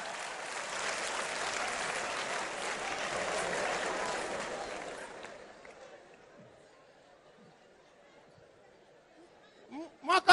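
A comedy show audience breaks into loud, dense applause mixed with crowd noise, which fades out after about five seconds into near quiet, followed by a couple of brief bumps.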